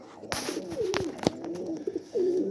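Pigeons coo in repeated soft, rolling calls close by, with a few sharp knocks and flutter-like bursts between them, no voices.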